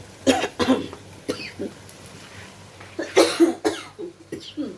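Several sharp coughs, set off by fumes from frying chilies, in irregular bursts, close by, with short pauses between them and a quieter stretch in the middle.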